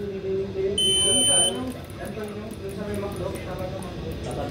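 A vehicle warning alarm sounds a steady high electronic beep for about a second, over continuous engine and road noise while someone talks.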